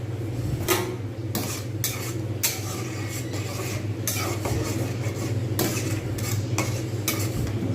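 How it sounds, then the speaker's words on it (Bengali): A utensil stirring chilli chicken sauce in a pan over low heat, repeated scraping strokes at an irregular rhythm over a faint steady sizzle, close, with no talking. "আমি যাতে লাম্প না পড়ে তার জন্য আমি কিন্তু একটু আধটু করে নাড়িয়ে দিচ্ছি"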